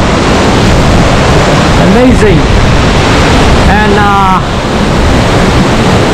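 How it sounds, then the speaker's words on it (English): Gljufrabui waterfall in Iceland roars as a steady, broad rush of falling water filling the whole clip, with a person speaking briefly over it. "Oh boy, what a beautiful waterfall"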